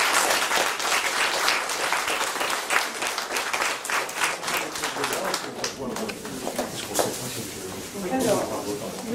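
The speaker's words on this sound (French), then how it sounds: "Bien, on peut les applaudir." An audience at a maritime book fair in Le Conquet breaks into applause, with sharp individual claps standing out within the crowd and gradually thinning toward the end, while voices murmur alongside.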